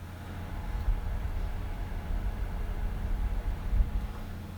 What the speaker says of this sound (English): I'll let you guys listen to the fan right now.